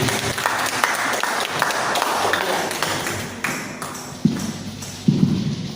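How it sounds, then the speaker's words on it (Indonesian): Audience applause at a school dissemination session on positive school culture, a steady crowd clapping that fills the room at moderate loudness, with a few sharper taps and thumps near the end. "Luar biasa, tepuk tangan untuk Bu Sulis."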